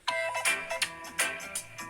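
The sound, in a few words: default cell phone ringtone sampled in a song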